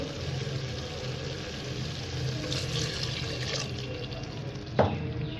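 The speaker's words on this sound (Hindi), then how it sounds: "इसके अंदर हम पानी ऐड करेंगे।" Water pours steadily into a cooking pan over a low flame with a soft, continuous splashing hiss, ending with a brief clink near the end.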